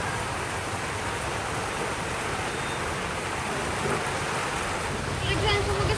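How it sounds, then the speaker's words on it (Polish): Heavy rain pours down in a steady, dense roar of broadband noise, constant and enveloping throughout, with faint voices in the background. "Jest ogromna ulewa."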